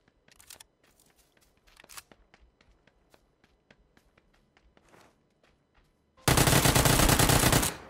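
Gunfire in the video game PUBG on PS4: a string of sharp, separate shots and clicks spaced unevenly over several seconds, then a sudden loud, sustained automatic burst at the end.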